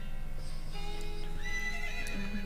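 A horse in the video game West of Loathing neighs with a clear rising whinny over a steady background, while hooves clip-clop alongside it, all close and fairly quiet.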